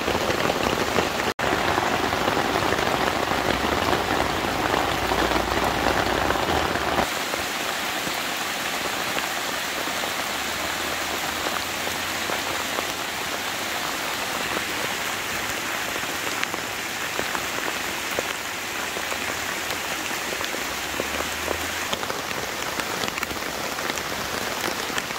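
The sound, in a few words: heavy rain falling on tent tarp during thunderstorm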